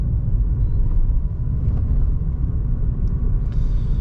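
A car accelerates after a speed bump during a driving-test route, giving a steady, close low engine and road rumble with cabin noise throughout and no talking.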